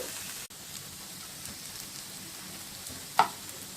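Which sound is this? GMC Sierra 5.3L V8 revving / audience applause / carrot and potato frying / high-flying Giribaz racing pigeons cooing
carrot and potato frying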